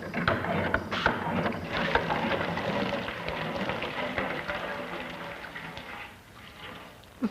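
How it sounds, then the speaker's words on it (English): A working mechanical water pump runs steadily, a dense continuous clatter and splashing rush that keeps an even level for several seconds before easing slightly near the end. "From this laboratory toy, you pass to a working pump of great practical value"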